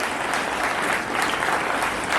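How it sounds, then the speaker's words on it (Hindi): Students at an Independence Day school assembly give a loud, sustained round of applause for NCC cadets, a dense wash of many hands clapping without pause. "तालियां हो जाए एनसीसी कैडेट्स के लिए"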